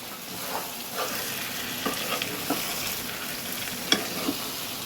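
Chicken pieces sizzle and get stirred in a hot pan for a chicken chap, a low steady frying hiss broken by a few sharp scraping clicks of the spatula, fairly quiet and close.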